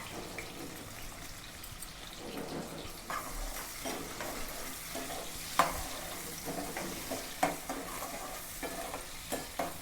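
Chicken frying in a pan, a faint, steady sizzle with scraping and stirring knocks at irregular intervals, alongside some water-like splashing sounds, with no one speaking.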